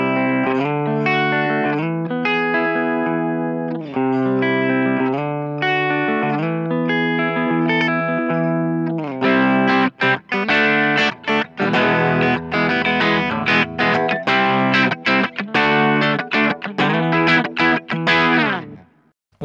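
An electric guitar on a Sire S7 with a Lace Sensor Gold humbucker and volume turned down to about 6, playing clean sustained chords and arpeggiated notes, then a denser, choppier strummed passage, loud and close with no talking.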